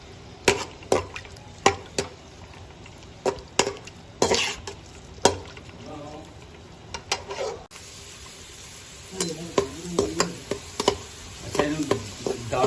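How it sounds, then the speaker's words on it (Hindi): Ghee heating on a lit flame with onions going in for aloo pulao, giving a soft sizzle under repeated sharp stirring and scraping knocks from a spoon against the pan, close by and with no talking. "फ्लेम स्टार्ट करके घी डाल दिया। आगे प्याज"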